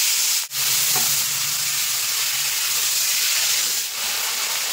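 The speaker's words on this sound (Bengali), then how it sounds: "এখন আমি চিংড়ি মাছগুলো একটু ভেজে নেবো, হালকা করে ভেজে নেবো" Prawns fry lightly in hot mustard oil, giving a steady, dense hiss and sizzle that runs throughout at a moderate, close level, with a couple of brief dips in the sound.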